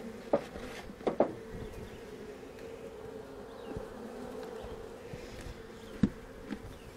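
Honeybees hum around a hive in a steady, fairly quiet drone, with a few sharper buzzes of individual insects passing close by.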